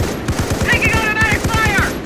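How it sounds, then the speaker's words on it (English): Rapid bursts of gunfire in the modern-combat strategy game Company of Heroes: Modern Combat, a dense, steady rattle of shots with game voices calling out over it. "Taking fire!"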